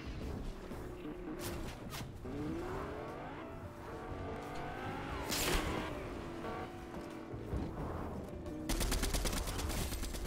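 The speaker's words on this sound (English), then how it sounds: "I think somebody's shooting at me." Gunfire in the video game Fortnite: scattered shots under vehicle-like engine noise, ending in a rapid, dense burst of automatic fire at the close, with no talk over it.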